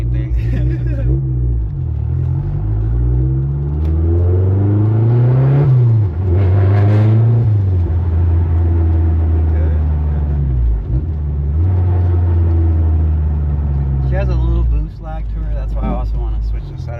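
A 2013 Mazdaspeed 3 with a big turbo revs loudly and up close, the engine pitch climbing and falling in repeated sweeps as the turbo slowly spools, while people talk over it.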